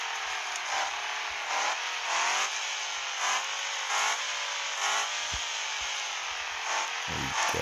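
An El Camino on off-road tires drives rough terrain in the video game Off Road Outlaws, its engine whining steadily with rising and falling pitch in regular surges, fairly faint and alone.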